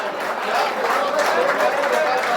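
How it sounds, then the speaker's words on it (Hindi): Audience at a mushaira poetry gathering claps steadily in welcome of a poet, a dense continuous wash of applause throughout, with a faint voice mixed in. "जोरदार तालियों में इस्तकबाल करें।"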